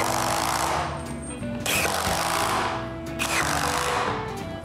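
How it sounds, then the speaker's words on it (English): Power screwdriver driving screws through the wooden parts of a handmade cat tree, a loud continuous whirring buzz with two brief pauses as each screw seats, close and alone. "Now I can screw all the pieces together."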